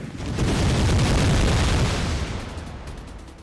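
Grenades going off in an Empire: Total War battle, a dense, sustained rolling barrage of booms and bursts that swells loud, then slowly fades, with no voices.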